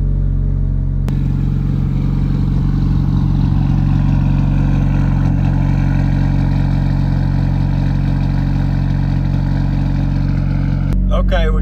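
Car with a stage 5 clutch idling as it warms up before a two-step launch control test: a steady, loud, low engine drone held throughout, close by, ending in a brief clatter.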